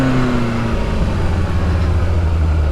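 A motorcycle engine runs steadily and close with the throttle being opened, a low droning note whose pitch shifts slightly across the few seconds.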